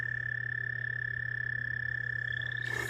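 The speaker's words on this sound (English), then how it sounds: "That's the American toad sound." An American toad gives a steady, continuous high trill, loud and close, with a constant low hum beneath and a short burst of noise at the very end.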